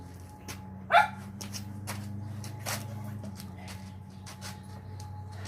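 A single sharp dog bark rings out once at some distance in a garden, over a low steady hum and scattered faint clicks.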